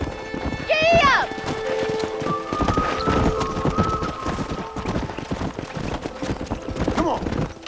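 Hooves clip-clop at a gallop in the Red Dead Redemption video game, loud and close, with a horse's whinny near the start and spoken dialogue over the steady rhythm.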